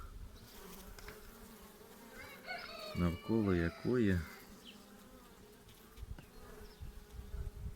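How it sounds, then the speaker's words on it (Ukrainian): Honeybees drone steadily close by inside a hive opened after winter, with a louder buzzing burst in the middle and a few brief spoken words. "І ось бігає саме та бджола"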